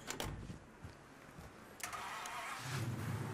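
A car in the Mafia 3 video game starts up, and its engine settles into a steady running hum that builds as it pulls away, heard alone at moderate volume without talk.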